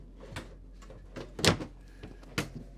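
Soft-closing drawers and cabinet doors in a 2024 Newmar Supreme Aire 4530 motorhome, a few quiet muffled bumps and slides spaced across a few seconds, the loudest a gentle thud in the middle.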